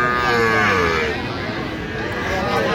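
Cows and calves low at a busy cattle market, with pitched bovine calls rising over a constant babble of crowd voices and people talking nearby.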